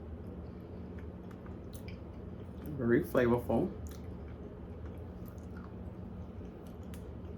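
Faint, soft chewing of a bite of moist eggnog pound cake with a crunchy bottom, a few quiet squishy chews under low room noise, briefly overlapped by a short spoken remark.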